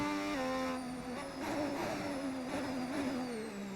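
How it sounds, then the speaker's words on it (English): A 2026 Honda-powered F1 car in the F1 25 racing game screams at high revs, with rapid stepped drops in pitch as it downshifts, a steady, prominent engine whine with no talking. "The engine sound is sick. Dude, it's so good, isn't it? The downshift's the best part."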